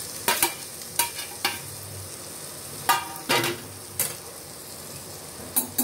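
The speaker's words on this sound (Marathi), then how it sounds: "आणि आता ह्याच्यावर हे कोलंबी अशी टाकायची." Prawns are tipped into a hot iron pan of red masala and sizzle steadily, with sharp metallic clinks and scrapes from a spatula striking the pan at irregular intervals.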